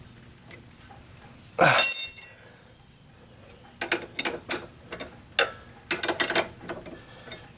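A 5mm hex tool working the self-locking nut on a Saturn Sky rear sway bar, giving a loud metallic rattle followed by bursts of short ratcheting clicks and clinks, close up with no talk.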